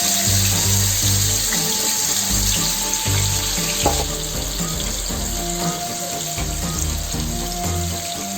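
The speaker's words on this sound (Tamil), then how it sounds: "இப்போ நம்ம அதை பொரிச்சு எடுத்துடலாம்." Marinated snakehead fish frying in hot oil over a medium flame, a loud, continuous crackling sizzle close up with a low bubbling undertone, alone without talk.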